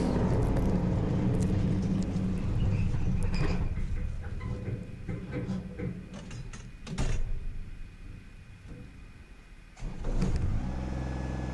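A Kubota BX25 compact tractor running a PTO-driven implement, a loud, steady engine drone with mechanical whirring that dips and surges, with clunks and knocks near the middle and end.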